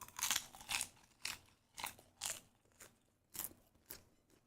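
A bigger mouthful of cheese-flavored popcorn crunched up close, with about eight crisp, fairly loud chews in a steady rhythm and nobody talking.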